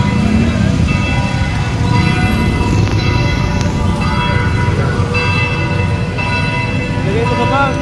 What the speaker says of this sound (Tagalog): 6 na kasi yung kampana ng simbahan.